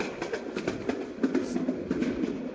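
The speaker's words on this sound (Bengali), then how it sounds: "ট্রেন চলেছে আপনার গতিতে, টুকু টুকু টুকু টুকু।" Train running in the Bangladesh train simulator game, a steady rumbling roll with repeated clickety-clack wheel beats at a close, moderate level.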